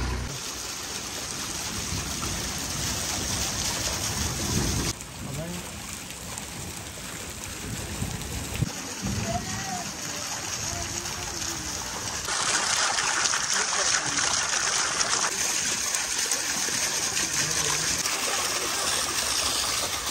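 Heavy rain falls steadily in a dense, continuous hiss, splattering on surfaces, with a few brief shifts in intensity and voices talking faintly at times.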